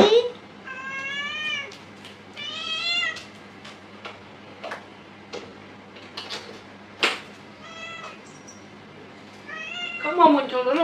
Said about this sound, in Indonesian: dengerin kucingku yang ngeong-ngeong ini